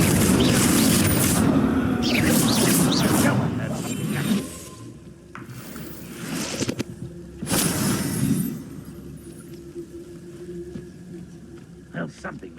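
A Confringo blasting spell explodes during a magic duel in the video game Hogwarts Legacy: loud booming blasts and crackling whooshes at the start, followed by a few sharper bursts and impacts, with voices in the background.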